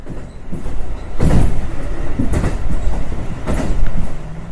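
A train rolls along the Rumoi Main Line in Hokkaido, approaching North Chippubetsu station in late autumn, with steady rumbling and several loud rhythmic wheel clacks over rail joints, close and continuous.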